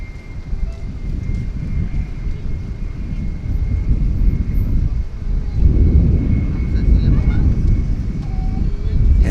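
An American Airlines jet takes off at DFW Airport, a steady broad engine roar that swells louder toward the end, with wind buffeting the microphone.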